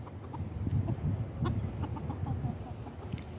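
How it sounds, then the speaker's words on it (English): Chickens cluck softly and steadily nearby on a cold, rainy morning, their short calls overlapping in a continuous low chatter with no talk. "There's my bird friends."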